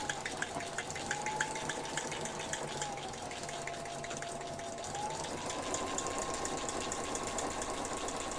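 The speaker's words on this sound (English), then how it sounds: "I'm over to the side sewing." A sewing machine hums and stitches steadily at close range, its motor pitch rising and falling slightly with a busy, even chatter of the needle throughout.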